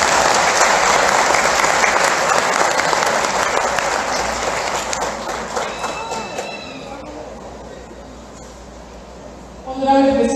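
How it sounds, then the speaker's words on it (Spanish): Loud, dense applause from a graduation ceremony crowd fills the hall and sustains for several seconds, then gradually thins and fades, with a brief burst of voices or noise near the end. "Un aplauso, por favor"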